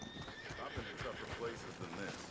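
Quick clip-clopping horse hooves with a brief whinny in Red Dead Redemption 2, mixed with speech over a steady background hum.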